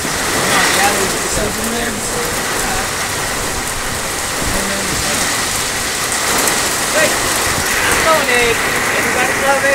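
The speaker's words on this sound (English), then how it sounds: "It's raining, it's pouring." Steady rain pours down outdoors in Las Vegas, a loud continuous hiss of drops on surfaces throughout, with faint voices occasionally under it.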